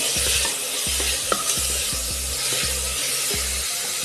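A spoon or spatula stirs soup in a pan, making a rhythmic series of scraping strokes about twice a second over a constant hissing simmer, close and without voices.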